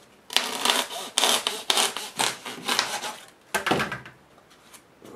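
A small hand saw cuts a square construction member to length in a Real Construction Deluxe Workshop earth mover kit, giving close, loud rhythmic strokes in rapid back-and-forth bursts, pausing briefly before a final few strokes.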